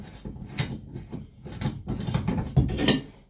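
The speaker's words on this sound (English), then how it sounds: "So we just unscrew it, and you'll see what's underneath" An old bathtub spout being turned off its pipe by hand, producing irregular creaks, scrapes and small metallic clicks in short bursts, close and moderately loud with no talk.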